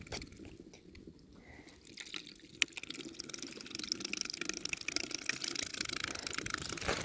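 Water sprays and splashes from a hose or tap on a farm: quieter dripping and trickling at first, then a steadier, stronger rushing spray that holds to the end.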